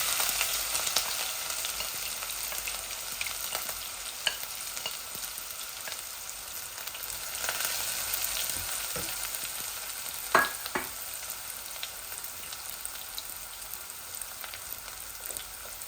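Onion frying in hot oil, a steady crackling sizzle with scattered sharper pops, close and continuous, with no talking over it.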